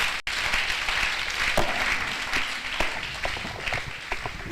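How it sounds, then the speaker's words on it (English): Audience applause at a university valedictory ceremony honouring a professor, sustained crowd clapping with scattered sharper individual claps, steady and fairly loud throughout. "please give him a big round of applause."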